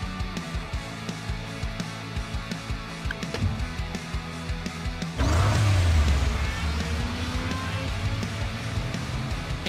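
A race car engine in the Hot Wheels Unlimited mobile video game idles with a pulsing drone, then surges into a loud, sustained rev about halfway through, steady and close.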